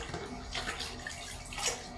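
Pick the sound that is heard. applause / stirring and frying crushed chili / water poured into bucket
water poured into bucket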